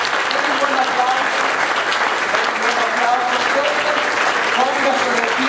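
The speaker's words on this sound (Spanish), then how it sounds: "Denle un buen aplauso al Señor, hermano." Church congregation giving sustained, loud applause, dense and steady clapping from a large crowd throughout, with voices mixed in.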